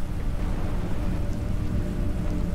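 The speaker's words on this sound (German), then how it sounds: "Und es regnet sehr, sehr viel." Heavy rain in the video game The Planet Crafter, a dense continuous low rushing roar that stays steady and loud throughout with no breaks.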